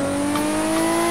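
A car engine in GTA 5 holds a steady, loud drone with a faint rising whine, continuous and without pauses.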